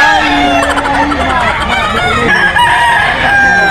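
White Kelso gamefowl roosters at a poultry seller in Bulacan crow loudly and continuously, with several overlapping crows ringing out close by.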